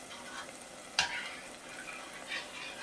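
Stuffed bell pepper filling stirred in a frying pan, a low continuous sizzle with one sharp scrape of a utensil partway through and soft stirring swishes, quiet and without voices.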